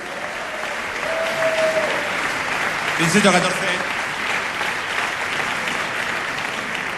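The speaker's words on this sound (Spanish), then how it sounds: "Un aplauso." An audience applauds at a music awards ceremony in a concert hall in Zaragoza, with steady sustained clapping that swells briefly midway, while a presenter speaks over it.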